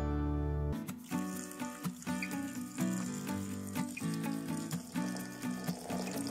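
Warm water pours and splashes over chopped onions in a bowl while preparing fresh guacamole salad, a steady liquid rush running close and fairly loud under light music-like tones, with no talk.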